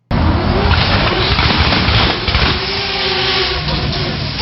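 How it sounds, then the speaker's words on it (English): A Mazda RX-7 rotary engine roars loudly and steadily, rising and falling in pitch as it revs hard, with a rough, aggressive tone throughout. "Wow, that's the RX-7."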